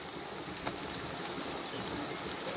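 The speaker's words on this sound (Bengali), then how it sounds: "এটিকেও তেলের সঙ্গে ভালো করে ভেজে নেব। এবার এর মধ্যে দিয়ে দেবো আদা রসুনের পেস্ট।" Ginger garlic paste sizzling steadily in hot oil with bitter gourd, onion and green chillies in a pan, a continuous dense crackling hiss close by with no talk.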